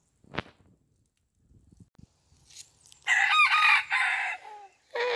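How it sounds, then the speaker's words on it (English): A rooster crows loudly and close, a long drawn-out call after a few soft clucks and taps, with a further call starting at the end. "I hear you, rooster."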